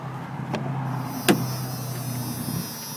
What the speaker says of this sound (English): power mirrors, power windows.